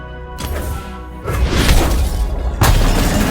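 Calibrum, Aphelios's moon weapon in Legends of Runeterra, fires on an enemy follower: a hard shattering impact with a booming low burst, followed by a swelling magical whoosh and a second bright crash near the end.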